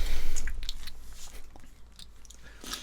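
Snacks crunched and chewed by several people, with soft irregular bites and mouth sounds close by, at low level.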